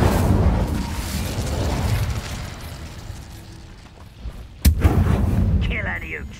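An Incendio fire spell cast in Hogwarts Legacy produces a loud, roaring burst of flame and rumble, dipping briefly before a sharp crack and a second surge of fiery noise.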